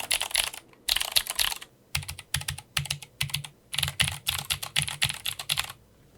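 Clicky typing on an Ajazz K620T keyboard with Ajazz Blue switches and double-shot cherry-profile keycaps, close up in rapid bursts of crisp keystrokes with short pauses between runs.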